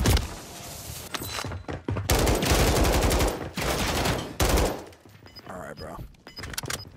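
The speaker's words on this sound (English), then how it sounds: "That guy shoots from on top of the building." Loud, close bursts of automatic gunfire in a Warzone video game match come in several sustained volleys separated by short gaps, with quieter game sounds trailing off at the end.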